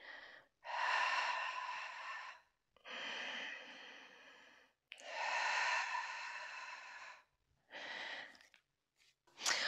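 Deep breaths during a beginner Pilates session: four long audible inhales and exhales with short pauses between, close and fairly soft, one breath cut off at the end.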